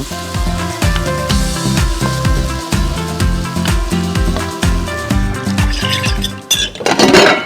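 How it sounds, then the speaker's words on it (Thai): Garlic and chili pounded with galangal are stir-fried in a pan for a Thai snakehead dish, the spatula clinking and scraping against the metal in a quick, busy rhythm over a steady sizzle. "ผัดให้กระเทียมพริก เข้าด้วยกันให้หอม"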